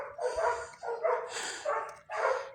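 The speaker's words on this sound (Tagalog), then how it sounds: "Daming aso dito guys." Several dogs bark in a village, repeated bursts of yapping and barking overlapping in quick succession, fairly close and loud with no talking.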